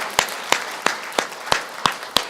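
In a church, a worship gathering claps in slow unison, seven sharp, evenly spaced claps ringing out loud and close, with nothing else between them.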